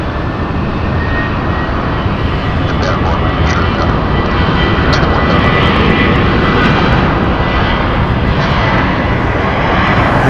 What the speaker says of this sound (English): We got a United landing.